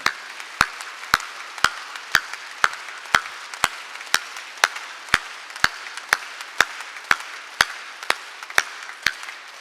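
A church congregation at a Korean Wednesday worship service claps steadily, nearly twenty sharp in-unison beats in an even rhythm, loud and close, with no talking over it.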